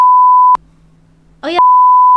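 A steady high-pitched censor beep cuts off, a brief fragment of a voice is heard, then the beep tone resumes.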